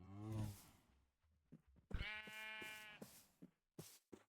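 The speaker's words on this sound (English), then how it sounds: "Sheep." Sheep in the video game Minecraft give a few harmonic, wavering bleats, the longest in the middle, separated by short clicks and quiet gaps, with no talking.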